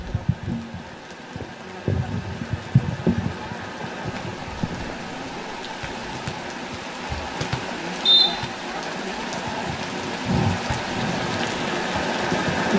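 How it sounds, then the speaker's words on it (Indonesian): Heavy rain falls during an outdoor women's volleyball match in Indonesia, a constant broad hiss with scattered low thumps and crowd noise underneath. "Hujan deras nampaknya kembali di pertandingan yang ketiga."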